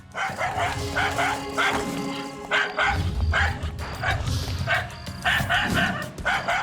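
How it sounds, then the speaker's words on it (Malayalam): A dog barks repeatedly in quick, sharp bursts nearby, with some yips in between and faint background noise. "ഇതെന്താ ഡോഗ് ഇങ്ങനെ കുരയ്ക്കുന്നേ?"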